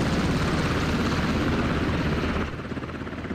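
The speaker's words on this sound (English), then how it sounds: "Second helicopter now coming into land." A helicopter gunship coming in to land in the video game Squad: a loud, continuous rotor thrum and engine roar that drops slightly in level near the end, no voices.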